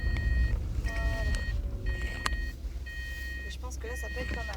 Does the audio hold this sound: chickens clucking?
no